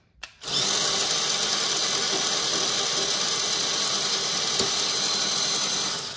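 A robot's disc intake mechanism with a chain and tensioner spins up abruptly, then runs at a steady high whine with a loud motor-and-chain drone, stopping near the end; no talking.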